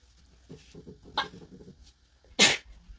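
A single sharp, loud sneeze bursts out near the end, after soft indistinct rustling and faint noises during household chores in a bathroom.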